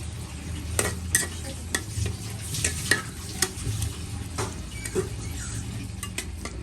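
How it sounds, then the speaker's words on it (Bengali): Chicken pieces with spices being stirred and fried in a pan: a low sizzle under repeated sharp scrapes and clinks of a spatula against the metal, in an irregular rhythm. "এখানে একটু ভালো করে নেড়ে ছেড়ে দিয়ে মাংসগুলোকে দিয়ে আমি একটু কষিয়ে নিয়ে"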